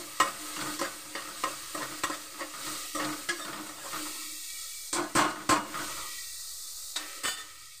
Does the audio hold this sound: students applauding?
no